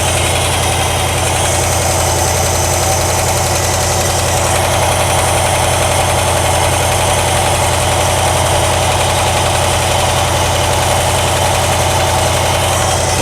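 A 1963 Ford Galaxie engine idles steadily and loud after its idle adjustment, a constant low drone with a slight rough pulse running unbroken and close, no voices over it.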